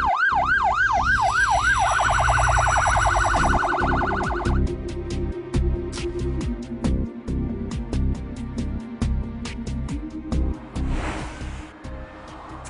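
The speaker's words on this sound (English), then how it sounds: "Loud sirens and flashing blue lights warn other road users of an approaching emergency vehicle" Loud emergency vehicle siren wailing in rising and falling sweeps, then switching to a rapid yelp before cutting off, followed by clipped electronic bursts and road noise as the vehicle passes close by.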